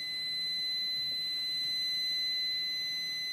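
An AGT multi-detector held against a wall beeps steadily over metal, a thin continuous high electronic tone that persists at an even level throughout, with faint room noise beneath.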